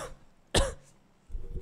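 A single sharp cough bursts out at close range, followed a moment later by a softer, lower throat-clearing rumble, in an otherwise quiet indoor setting.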